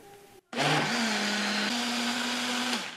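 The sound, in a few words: blender mixing cake batter with baking powder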